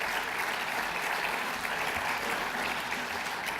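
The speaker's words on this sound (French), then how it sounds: "j'ai entendu les exclamations et les applaudissements" Audience at an opening address of a national professional conference breaks into sustained, dense applause that holds steady and loud for the whole stretch, with no speaking voice over it.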